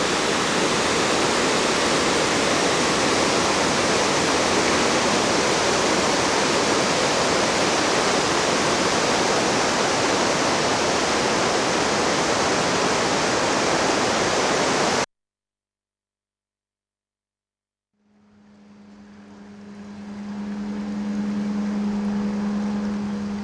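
A river in New Zealand, running fairly low, rushes in a loud, steady broadband roar for about fifteen seconds, then cuts to silence before a fainter hum slowly rises.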